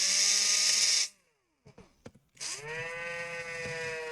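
A cordless drill opening a laptop for a charge-port repair whirs loudly for about a second, then cuts out; a few faint clicks follow, and a second steady whirring run starts up close.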